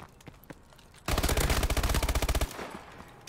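Suppressed automatic gunfire from Call of Duty Advanced Warfare: a loud, rapid burst of about twenty evenly spaced shots lasting over a second, rising abruptly out of quieter game ambience and cutting off sharply.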